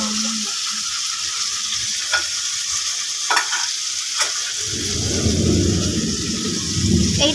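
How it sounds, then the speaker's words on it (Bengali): Store-bought ginger garlic paste sizzles and fries in a hot pan, with a steady hiss that swells into a louder, crackling sizzle partway through as it is stirred. "আদা রসুনের পেস্টটা দিয়ে দেওয়া হলো।"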